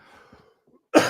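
A single sharp, loud cough bursts out close to the mic at the very end, after a stretch of faint breathing and low background murmur.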